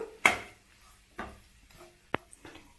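Spatula scraping through egg bhurji masala in a pan over a medium gas flame: a few separate, close scrapes and one sharp metallic tick against the pan, fairly quiet, with no talking.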